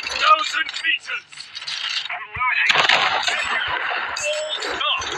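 The USS Des Moines fires its naval guns in the War Thunder game, with sharp cracking blasts and rumbling impacts mixed with in-game voice callouts and mechanical noise.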